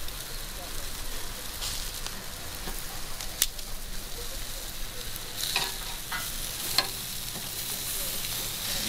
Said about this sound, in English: Oh, listen to that sizzle